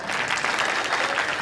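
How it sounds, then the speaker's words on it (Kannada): Loud, dense applause from an audience at a film event, clapping steadily and evenly throughout with no gaps or speech on top. "ಜೋರ್ ಚಪ್ಪಾಳೆ"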